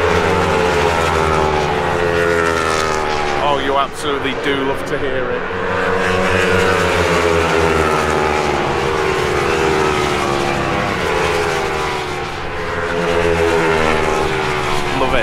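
Racing motorcycles on a warm-up lap roar past in a loud, continuous stream of engines near a circuit's pit area, rising and falling as the pack goes by, with someone talking excitedly over the noise.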